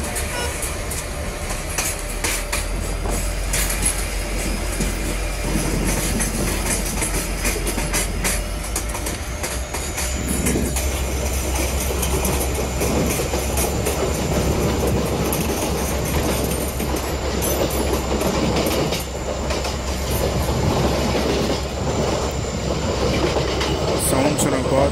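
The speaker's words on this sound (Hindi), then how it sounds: "देखो गियर्स के साउंड सुनो, EMD हाउलिंग का साउंड सुनो" An EMD-engined WDP4 diesel locomotive in the Open Rails train simulator, hauling a Mumbai–Ahmedabad double-decker express, gives a steady loud engine howl and drone over rolling rail clatter, continuous throughout with a high whine building in the second half.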